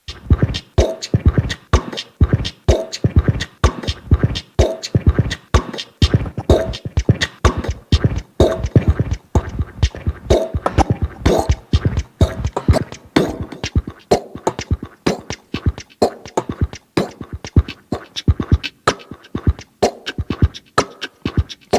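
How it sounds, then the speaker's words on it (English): Synthesized percussion from XLN Audio Life on an auto selection plays a dense, busy groove of short sharp hits and scratchy clicks in a steady syncopated rhythm, loud and continuous throughout. "They sound like legit percussion."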